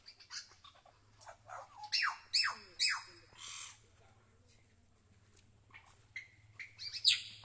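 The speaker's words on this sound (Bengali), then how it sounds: "এই যে শব্দ শুনতে পাচ্ছেন পাখির।" Birds in an eco park squawk and chirp in a run of sharp, harsh calls, loud and near at times, bursting in clusters over a low steady hum with quiet gaps between.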